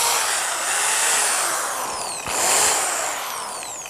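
A Worx Orange WX electric drill runs unloaded, its motor a smooth, loud, high whir that dips briefly in speed and then spins back up, close and alone.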